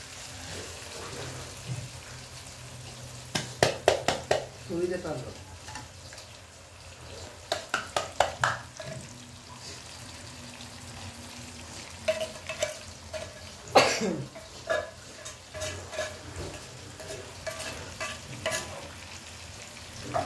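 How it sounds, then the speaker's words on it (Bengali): Tuna fish is stirred and fried in a pan. A soft low sizzle runs underneath irregular sharp clacks and scrapes of a utensil, with a few louder knocks and quiet gaps between them. "এই টোনা মাছটি দিয়ে দিলাম, এইভাবে সুন্দর করে নেড়ে"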